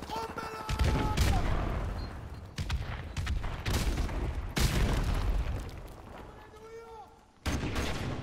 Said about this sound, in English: I'm pulling out my M16 now.